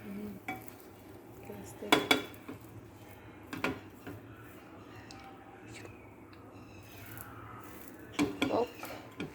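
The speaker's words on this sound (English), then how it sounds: "Let me just flip it with the help of a fork." A fork scrapes and clinks against a greased pan while a bun is flipped, producing a few sharp metallic taps over a low background murmur and faint sizzle.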